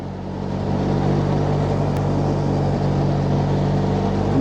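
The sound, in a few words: car engine while downshifting gears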